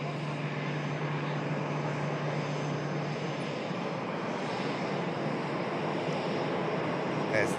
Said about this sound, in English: There's the next arrival, the Tivat flight of EasyJet.